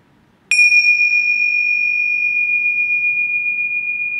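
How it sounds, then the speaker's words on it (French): A single strike on a gong or bell rings out with a bright, clear metallic tone that sustains steadily and loudly for several seconds without fading much. "Alors un petit coup de gong."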